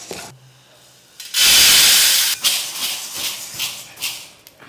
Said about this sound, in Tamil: கம்பு நல்ல வாசம் வருது, வறுபட்டுருச்சு, பொரியுது பாருங்க.